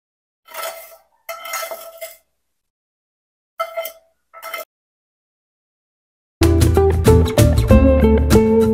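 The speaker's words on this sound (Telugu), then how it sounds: "బాగా మరుగుతున్న పాలల్లో సేమియాలు వేసేద్దాము." A metal spoon clinks against a pot while vermicelli is stirred into boiling milk for sheer khurma, with a few short, bright taps separated by silence, followed by a louder, denser clattering burst at the end.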